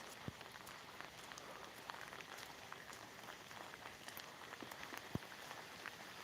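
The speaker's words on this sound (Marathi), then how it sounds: "दुपारच्या पुढे पाऊस चालू झालेला आहे" Steady rain falling on a rural farmyard in Maharashtra, a soft continuous patter with scattered individual drops tapping close by, fairly quiet and with no voices.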